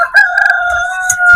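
A rooster crows close by, a loud, clear call held steady for over a second and ending with a brief rise, heard alone without talk.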